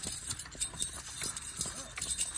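A horse's hooves clip-clop in a quick, uneven patter during dance training, fairly faint and steady through the whole moment, with soft background voices.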